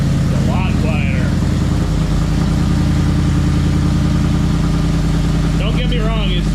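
A Ford Raptor off-road truck idles loudly and steadily right after starting, a deep rumbling throb close up, with people talking over it at the start and near the end.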